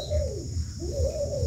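Domestic pigeons coo in a steady, rolling series of low throaty calls, close and continuous with no voices.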